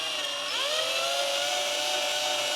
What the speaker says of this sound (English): but this is using my drill